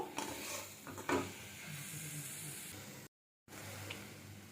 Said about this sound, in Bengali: দিয়ে দেবো ম্যাগি ম্যাজিক মশলা এক প্যাকেট সব কিছু ভালোভাবে মিশিয়ে নেব